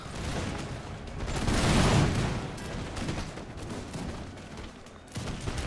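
Massed musket volleys crackle in an American Revolution strategy game as a unit fires on Minutemen, a dense, fairly quiet rattle of overlapping shots that swells then continues steadily.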